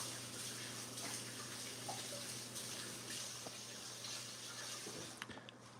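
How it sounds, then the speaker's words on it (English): Running tap water pours steadily into a sink while floury hands are washed beneath it, a constant soft hiss with faint splashes and a few small clunks near the end as the flow stops. "let me go wash my hands because I've got a little bit of flour on them"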